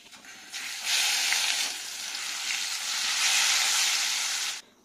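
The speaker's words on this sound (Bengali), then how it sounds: "এতিয়া মই মাছখিনি ফ্রাই কৰিলো কোন মান হালধি দি দিছো তেলতে" Fish fries in oil with turmeric, a bright hissing sizzle that swells quickly, holds strong for several seconds with a slight surge, then cuts off abruptly.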